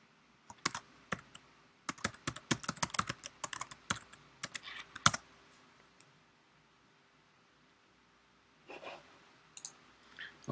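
A password is tapped out on a computer keyboard, a close, quiet burst of rapid key clicks that stops for a few seconds before a short final flurry of keystrokes.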